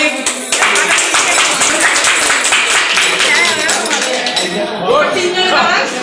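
Loud, rapid clapping from a small group fills a home medal ceremony, mixed with clinking like metal medals or dishes. Voices talk over it throughout.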